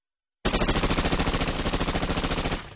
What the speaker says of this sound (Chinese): 马克沁机枪的诞生开辟了一个全新时代